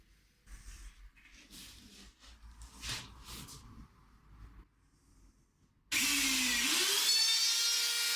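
An electric router cuts a guitar body along a clamped template for fitting a new neck: quiet handling and shuffling noises come first, then the router bursts on loudly near the end with a steady high whine and a harsh cutting roar.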